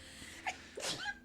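A single quick sneeze, close by, with a sharp intake and burst of air, in a quiet room.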